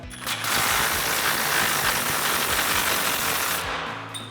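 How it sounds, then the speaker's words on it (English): An impact wrench with a swivel adapter runs out a flag nut on a RAM 2500 front track bar mount. It gives one loud, close, sustained rattling burst of about three seconds, with short hits before and after. "we're gonna bring back our impact and swivel adapter, run this out"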